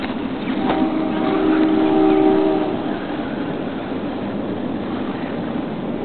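A 17.5 brushless remote control offroad car, set to a 60% torque limit, speeds down the straightaway of an offroad raceway; a rising electric whine over steady track noise peaks early and then settles into a continuous hum.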